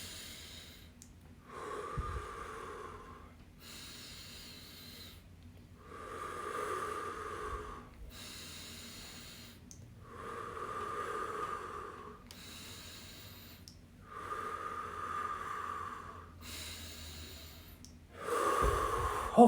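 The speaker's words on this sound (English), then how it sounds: "I just want you guys to breathe with me" Slow, deep breathing in a calming relaxation exercise, with about eight long, even breaths alternating in a steady rhythm, close to the microphone and otherwise quiet.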